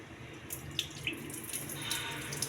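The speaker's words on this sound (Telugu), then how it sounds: "వాటర్ మొత్తం వంపాలండి." Soaked red rice being drained, with the soaking water running and splashing steadily into a sink for a couple of seconds, with a few brief louder splashes.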